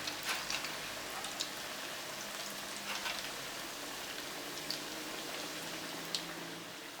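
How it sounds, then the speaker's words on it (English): Fish roll deep frying in hot oil, a steady close hiss of bubbling oil with occasional sharp pops and crackles, quiet and continuous with no voices. "Fry my fish roll."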